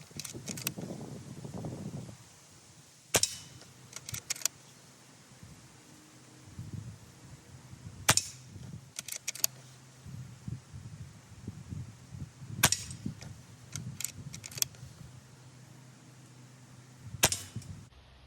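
Five shots from an Umarex Komplete NCR .22 caliber air rifle at 25 yards, sharp separate cracks spaced several seconds apart with a faint low rumble and handling noise between them.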